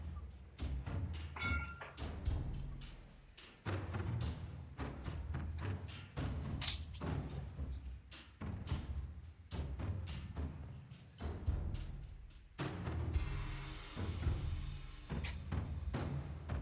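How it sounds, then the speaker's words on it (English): Repeated mortar launches in a video game: a dense string of heavy thumps and thuds, many close together in uneven clusters, fairly loud throughout with brief gaps, and no talking. "Very standard approach to have the mortars being deployed."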